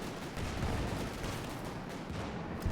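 Gunfire near a Panzer IV in the World War II strategy game Company of Heroes 2 sounds as a dense, muffled rumble of distant battle noise that stays steady throughout, with no talking.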